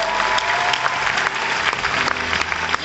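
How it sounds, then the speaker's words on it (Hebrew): Audience at an end-of-year class performance show applauding a music producer, steady dense clapping filling the hall, loud and continuous without voices. "קבלו אותו במחיאות כפיים"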